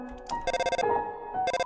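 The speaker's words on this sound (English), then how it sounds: "We're getting a phone call." A phone rings with an incoming call in an Undertale game playthrough, sounding as short bursts of bright repeated trills separated by a brief pause, loud and close with no talk over it.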